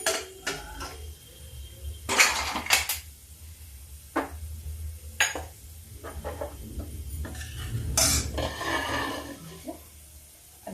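Satpahita urad dal is ladled out of a cooking pot with a tadka on the stove. Sharp metallic clinks and scrapes arrive in irregular bursts over a low, steady hiss of sizzling, with no talk.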